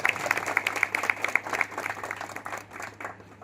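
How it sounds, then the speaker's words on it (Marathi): A crowd applauds a local women's group at a gathering celebrating a newly elected councillor, with dense, fairly steady clapping at moderate distance that gradually thins out. "पहिल्यांदा जोरदार टाळ्या होऊन जातात आपल्या महिला मंडळासाठी"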